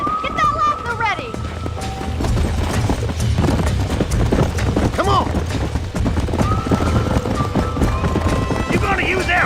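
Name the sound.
galloping horses in Red Dead Redemption video game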